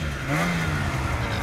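Non-turbo racing vehicles rev on the throttle as they approach, a rising engine drone with clattering undertones heard at a moderate distance, steady throughout and with no talk.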